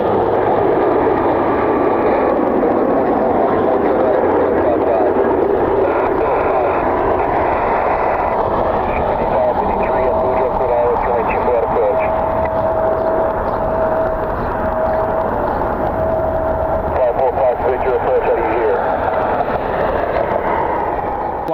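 An Envoy airliner passes overhead at night on a windy evening near Cleveland, a steady loud jet engine roar that holds throughout with wind noise and no talking.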